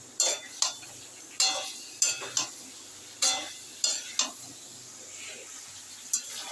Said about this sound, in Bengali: আলুটা এবার মশলার সাথে ভালো করে কষিয়ে নেব।